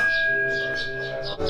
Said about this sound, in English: go around the prayer bell one time